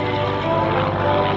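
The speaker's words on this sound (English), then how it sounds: "I'll just let you listen to that engine again." A Supermarine Spitfire aircraft engine at an airshow, a loud, steady propeller-engine drone with a strong, even tone, heard close and alone.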